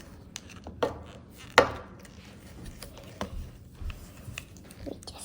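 Homemade water slime tinted blue being mixed by hand, soft wet clicks and taps with a couple of sharper knocks against the container, fairly quiet and close.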